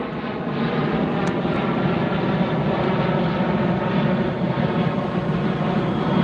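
A JetBlue airliner flies past near the beach by LAX, its engine noise rising quickly and then holding as a loud, even roar with a faint whine above it, no voices present.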